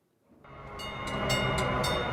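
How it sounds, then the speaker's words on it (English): An RTD light rail train in the Denver area rolls past, its rumble rising from quiet to a steady roar, with a few short bright horn or bell bursts on top. "RTD trains come and go through dozens of different cities."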